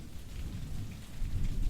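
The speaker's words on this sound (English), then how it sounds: "Can I just wait here while the rain clears?" Steady rain pours down in a continuous hiss with a low rumble of thunder underneath, close and fairly loud, with no voices.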